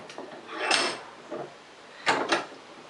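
A hand plane shaves a wooden tenon in a few short rasping strokes, close and moderately loud, with brief pauses between passes.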